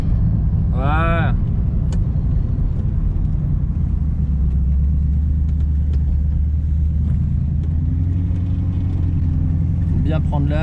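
A modified 1967 Pontiac Firebird with a 6.6-litre V8 rumbles steadily and loudly, a deep continuous engine drone that swells slightly toward the end.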